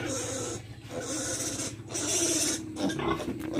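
A feverish piglet on a farm gives repeated low grunts and snorts, close and fairly loud, in short uneven bursts with a breathy, nasal quality.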